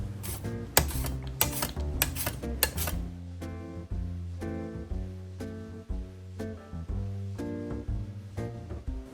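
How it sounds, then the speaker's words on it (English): Yukon Gold potatoes sliced on a mandolin, a quick run of rasping strokes followed by slower, steady repeated slicing passes with light knocks, close up in a quiet kitchen. "I'm gonna slice up my Yukon Gold potatoes. I got a mandolin to ensure that I get nice thin slices."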